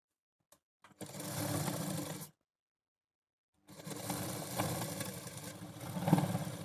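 A sewing machine stitches the shoulder seams of a blouse in two bursts of steady, close whirring separated by a short pause.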